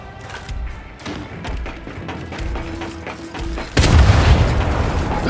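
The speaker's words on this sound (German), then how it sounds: "Bombe geht gleich hoch!" Bomb explosion in the Gears 5 video game during a Hive escape mission: a series of mechanical clicks and ratcheting taps leads into a sudden loud, sustained blast that roars on to the end.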